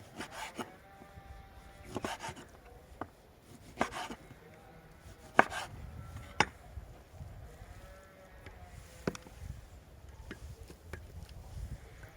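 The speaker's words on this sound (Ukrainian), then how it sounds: "З ребер здираю плівку і також нарізаю на шматочки." Pork ribs being chopped into pieces with a knife on a wooden board outdoors, a series of sharp, irregular thuds and chops with scraping between strikes, close and fairly quiet.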